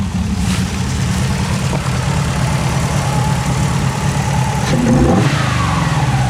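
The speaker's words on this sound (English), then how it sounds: "But when I go here to rev it up," A 1996 Pontiac Trans Am engine with a slightly choppy, cammy idle, loud and close, holding a rough drone before a rev near the end that swells and then falls back.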